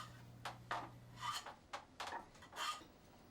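A hand plane strokes across a sawn wooden door frame piece on a workbench in traditional Korean joinery, giving a series of short dry rasping passes, faint and close with a steady rhythm.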